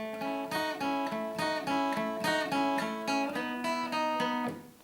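Guitar strums a repeating chord pattern, bright ringing chords struck in a steady rhythm, each change clear and full, fading out at the end.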